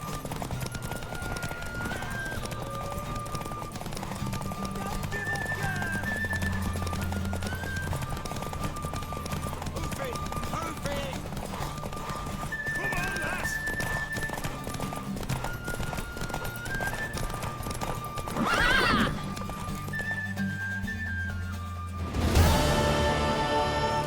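Steady clip-clop of hooves with a horse whinnying partway through in the video game Witcher 3, then a sharp burst of noise near the end; music and faint voices run underneath.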